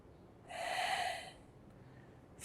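A person holding a seated hatha yoga stretch with hands clasped behind the back exhales one long, steady, breathy breath through the nose, close and clear, followed by quiet.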